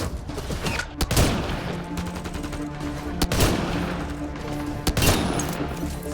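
Continuous gunfire crackles in rapid bursts, with loud heavy volleys recurring every couple of seconds over a dense background of shots.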